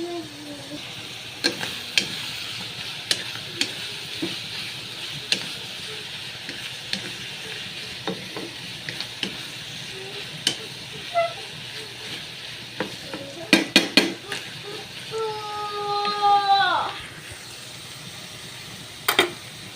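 Ground meat and mushrooms cook in a pan for spaghetti: a low, even background sizzle broken by sparse clicks and utensil taps, with a brief burst of busier clatter near the end.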